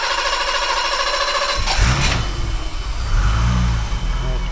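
A 1985 BMW 635CSI engine cranks and catches, then settles into a steady, loud idle close by after a burst of starting noise.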